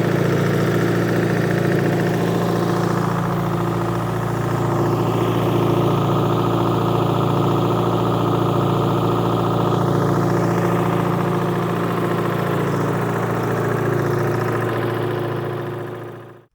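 A Dynahoe excavator's diesel engine idles close by as it warms up during restoration work, a steady low rumbling drone with no talking, which cuts out at the very end.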